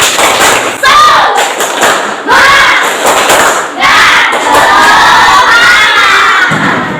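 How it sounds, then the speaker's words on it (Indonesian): Students in a classroom perform a rhythmic spirit clap chant, loud bursts of shouted voices and claps in several surges with brief pauses between. "mari kita tepuk semangat terlebih dahulu"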